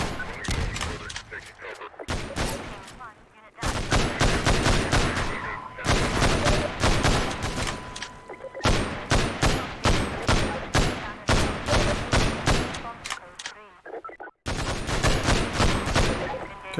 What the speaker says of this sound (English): this is a better pistol than the regular Half-Life 2 pistol